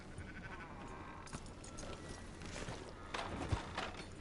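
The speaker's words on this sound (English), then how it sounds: "Fine sheep." Sheep bleat in Red Dead Redemption 2, a few short wavering calls over a soft background of hoof clops and ambient outdoor noise, fairly quiet overall.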